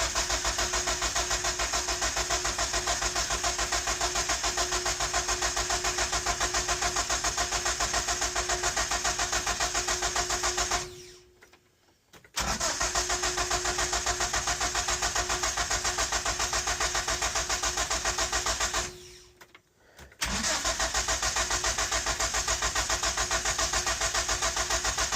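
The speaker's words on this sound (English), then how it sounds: "let's see if this truck will start" A classic Ford truck engine churns loudly and steadily in a long run, broken twice by brief cut-outs before it fires back up. No voices are heard over it.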